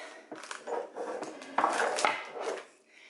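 A chopping board is pulled out in a home kitchen while baking a caramel apple cake, with a string of light clatters and knocks of wood and utensils close by.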